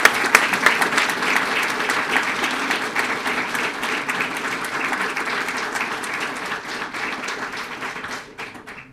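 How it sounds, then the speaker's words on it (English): A crowd at a police swearing-in and promotion ceremony claps loudly and continuously for an officer, the applause filling the room before tapering off at the very end. "Let's give him a round of applause"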